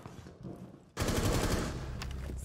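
Close rapid automatic gunfire bursts out in Rainbow Six Siege during a hostage match, a sustained rattling volley after a quieter lead-in.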